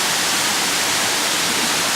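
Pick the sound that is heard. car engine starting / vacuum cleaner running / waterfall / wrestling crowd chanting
waterfall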